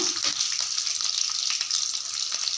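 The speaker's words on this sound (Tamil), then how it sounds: "பச்சை மிளகா கொஞ்சம் எண்ணெயில் போட்டோன்னே வெடிக்கும் பார்த்துக்குங்க" Steady crackling and sputtering of green chilies frying in hot coconut oil, a dense, continuous sizzle with small pops, close and fairly loud, no voices.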